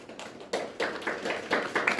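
Applause from the audience at a social entrepreneur training orientation in Korea, rising in several bursts of clapping over a couple of seconds, moderately loud and mid-distance, with no talking.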